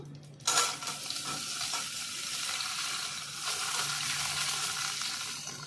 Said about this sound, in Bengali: আলুটা হালকা করে একটু লাল করে নেব